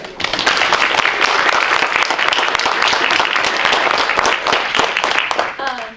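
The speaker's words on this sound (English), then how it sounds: "let's just give them a round of applause" An audience at a panel on Indigenous women and climate change claps and applauds, dense and loud, sustained for several seconds before tapering at the end.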